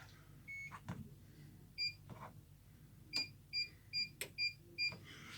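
Cooking hob being switched on, giving a series of short electronic beeps, several spaced apart and then a quicker run of near, clear tones in a quiet kitchen.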